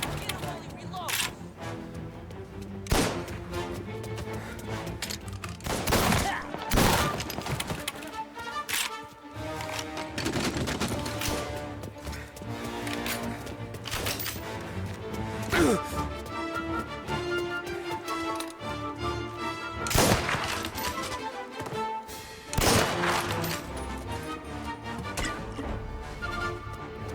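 Gunfire from a Mafia: Definitive Edition shootout, rapid loud shots and impacts cracking throughout amid constant game combat noise, with in-game voices shouting over it.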